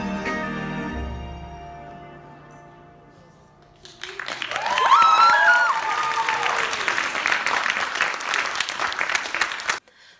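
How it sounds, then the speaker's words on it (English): A cinema audience breaks into sustained applause and cheering, a dense wash of many hands clapping that swells and holds for several seconds after a quieter stretch of music and voices, then cuts off abruptly. "At the end everybody cheered and clapped"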